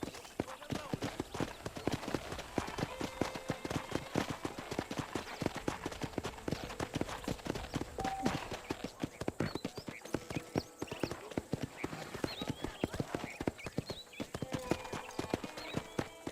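A horse's hooves clip-clop at a steady walking pace across a ranch property in the Red Dead Redemption video game, close and rhythmic throughout, with occasional speech over the hoofbeats.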